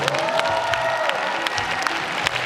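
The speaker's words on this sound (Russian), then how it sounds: "вот здесь нужны самые громкие аплодисменты" An audience at a student spring festival gala concert applauds in a dense, steady wash of clapping, loud and continuous, with a brief tonal sweep at the start.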